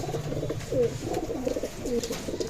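Pakistani Teddy pigeons cooing in soft, repeated low calls, close by, over a steady background hum, with no one speaking.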